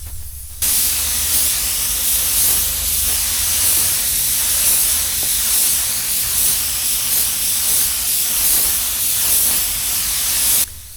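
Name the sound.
spray gun painting a car body repair area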